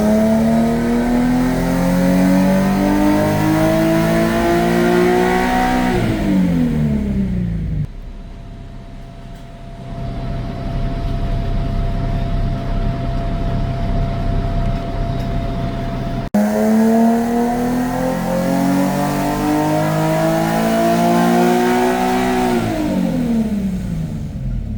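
Stock Nissan 370Z Nismo with a Tomei catback exhaust on a dyno, making two long, loud full-throttle pulls that climb steadily in pitch, separated by a quieter idling stretch, with no talking.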